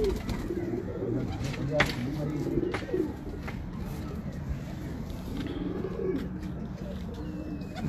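Breeder pigeons coo repeatedly in soft, rolling bursts, close by, amid steady background noise with occasional chirps and faint talk.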